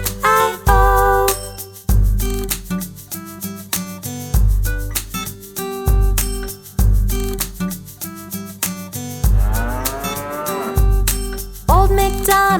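Cow mooing sounds from an Old MacDonald nursery song, set to a bouncy, loud musical backing with several moos repeating rhythmically.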